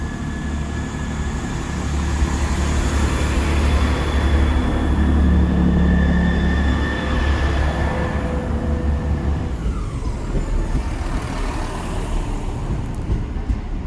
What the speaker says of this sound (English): Great Western Railway departing Guildford for Redhill via Dorking.